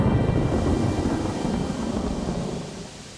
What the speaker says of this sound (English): An out-of-season storm rolls in